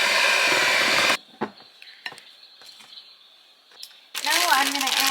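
Dry ingredients with pumpkin pie spice and baking soda being stirred into a pumpkin dessert batter by hand, a few soft scrapes and clicks of a utensil against a bowl, with talk before and after.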